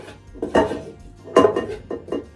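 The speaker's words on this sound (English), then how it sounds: "we're going to go ahead and transfer this into our mixing bowl" Cooked onion, tomato and green chili for a creamy spinach dip are scraped from a pan into a mixing bowl, producing a few clattering utensil-on-cookware knocks and scrapes in uneven bursts, close and clear.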